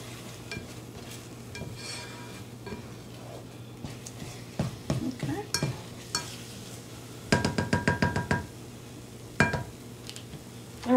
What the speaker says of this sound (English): So our eggs are cooking.